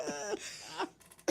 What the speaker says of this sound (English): But I live with this cough,